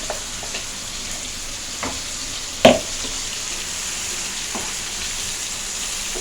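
Chicken curry masala sizzles steadily in a pan with a continuous close crackle, broken by a single sharp clatter of stirring and a few faint taps.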